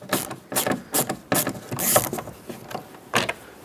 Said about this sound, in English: there's a Phillips head screw in here that we have to remove, so use a screwdriver and take that out